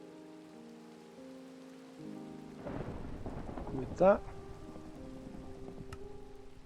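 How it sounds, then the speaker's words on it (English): A rainstorm in the Minecraft video game, with soft steady rain joined by a rumbling roll of thunder that builds and peaks briefly. The sound stays fairly quiet, and a voice speaks briefly. "I heard a storm."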